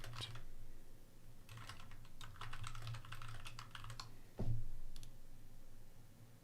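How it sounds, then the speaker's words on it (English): Quick bursts of clicking keystrokes on a computer keyboard, close and fairly quiet, come in uneven clusters with short pauses and one sharper thump near the end. "Just writing some notes here."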